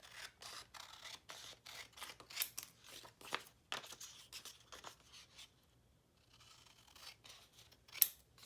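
Scissors snipping out small paper images for a craft project, a string of quiet crisp cuts in short bursts, a brief pause, then more snipping, close and alone.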